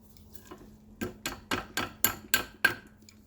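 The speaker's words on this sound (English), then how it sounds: "Just using some pliers that are way too big for the job." Oversized pliers working on a part of a 6000-pound gantry crane, giving about seven sharp metallic clicks and knocks in an uneven rhythm, close and fairly loud, with no talking.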